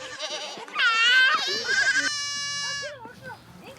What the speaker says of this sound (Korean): 어린 아이들까지 합세해 우리 밖으로 새끼 염소들을 이리저리 몰아냅니다.